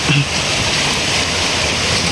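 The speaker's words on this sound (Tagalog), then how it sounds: "tingnan nyo yung ilog dito mga kababayan o oh, di ba ang sarap maligo dito sa ilog" Steady broadband rush of river water flowing on a farm, a continuous loud wash with no clear breaks, heard close and alone.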